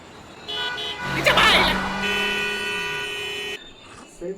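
A car horn blares in a long sustained honk at a traffic signal, with a shorter toot and traffic noise around it, and voices briefly audible.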